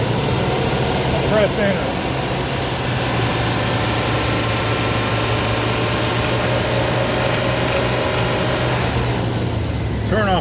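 A car engine is revved and held at raised RPM during a battery tester load check, a steady close drone with someone speaking briefly over it.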